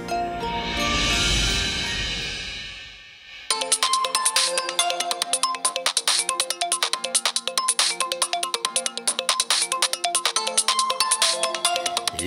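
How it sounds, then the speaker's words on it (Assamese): A mobile phone rings with an incoming call from a manager, a steady, repeating electronic ringtone melody after a brief swell of other sound at the start, fairly quiet with no talk over it. "এই সময়ত আকৌ মেনেজাৰে কিয় ফোন কৰিছে"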